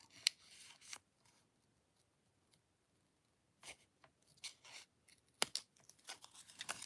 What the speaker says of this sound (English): when fussy cutting, you're supposed to move the paper, not the scissors.